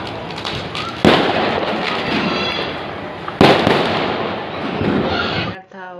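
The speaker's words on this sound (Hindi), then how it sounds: "तुलसी विवाह के दिन कितने पटाखे फूट रहे थे।" Firecrackers burst loudly twice on Tulsi Vivah night in India, each sharp crack followed by a crackling, hissing shower, with voices talking underneath.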